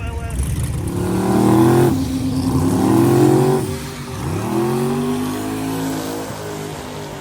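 A twin-turbo LS race car, rebuilt from a diesel setup, revs hard at a Rocky Mountain Race Week event. Its engine climbs and drops in several loud, rising pulls.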